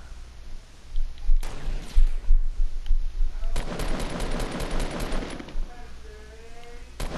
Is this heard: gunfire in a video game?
yes